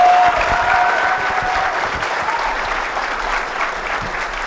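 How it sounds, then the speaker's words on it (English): A crowd at a BronyCon 2016 panel breaks into steady, continuous applause that holds evenly through the moment, a faint whoop near the start and no one speaking. "Give him a big round of applause."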